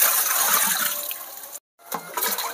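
Poultry medicine is stirred into water, making a steady swishing and sloshing of liquid up close that breaks off for a brief moment and then resumes.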